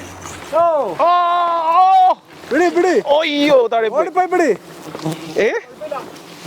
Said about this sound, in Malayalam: നമ്മുടെ തേനീച്ച കൂട്ടം ഭയങ്കര അഗ്രസീവാണ്